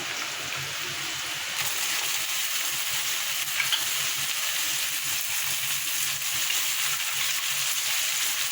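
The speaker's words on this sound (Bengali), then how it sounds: "দেখো গাজরটা ভাজা ভাজা হয়ে গেছে এইবার আলুগুলো দিয়ে দেবো" Diced carrots and potatoes fry in a pan with a loud, even sizzle that continues unbroken for several seconds, close by and with no talking.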